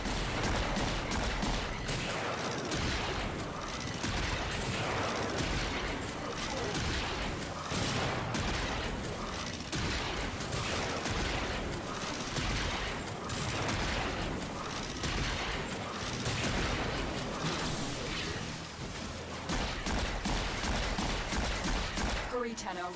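Sustained gunfire at the core in the Warframe video game rattles on as dense, rapid, continuous shots at high volume, with voices mixed in beneath the shooting.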